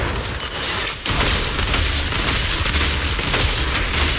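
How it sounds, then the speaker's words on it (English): Grim Vulture fires shots from afar in Zenless Zone Zero. A loud, dense barrage of booming blasts and crackling impacts runs throughout, with a brief dip and a sharp restart about a second in. "Watch out for Grim Vulture taking shots from afar."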